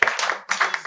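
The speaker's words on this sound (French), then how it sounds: "Vous pouvez applaudir quand même" A small audience claps briefly in a lecture hall, a short patter of hand claps that swells twice within a second.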